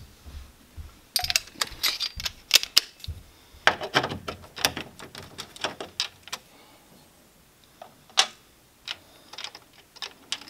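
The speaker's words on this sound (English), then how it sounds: "So to take this off, take that nut out." Metal parts clicking and clinking as a nut is taken off a post on a Stranger Things pinball machine, a series of sharp close taps and small rattles in uneven bursts with quiet gaps.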